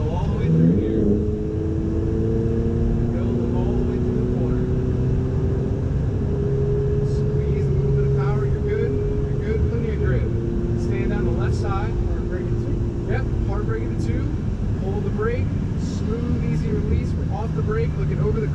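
A Ferrari 488 GTB drives on a race track, its engine holding a steady, sustained roar with shifting pitch from inside the car, while someone talks over it throughout.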